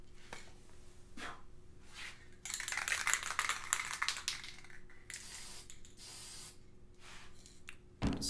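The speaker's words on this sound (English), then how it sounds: "Spray a bit of a test there so I can touch that and know when to come back in on this." Gold aerosol spray paint hisses from a can in a short test burst during guitar or ukulele finishing, a loud steady spray lasting a couple of seconds between quiet pauses and small clicks.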